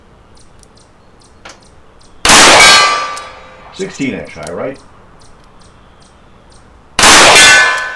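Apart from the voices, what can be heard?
bullets from S&W Model 19 revolver hitting steel gong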